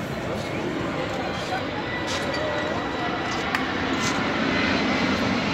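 A passenger airplane passes over a park near Patna airport as it comes in to land, a steady broad engine roar filling the whole stretch at constant loudness.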